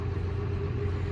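An ageing farm tractor engine runs steadily at idle, a continuous low rumble with a droning hum and no talk over it.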